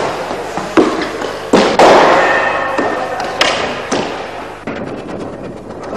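Squash played in a gym, heard as a string of hard, hollow ball thuds and racket smacks at irregular intervals, echoing in an enclosed court.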